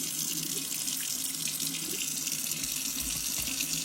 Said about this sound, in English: So now I'm going to turn the water on, and we're going to rinse this off